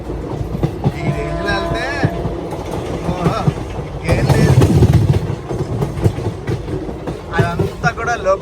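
Chengalpattu to Kacheguda express train running, a loud rumbling roar with rhythmic clatter of wheels on rails and squealing metal, heard from on board with someone talking over it.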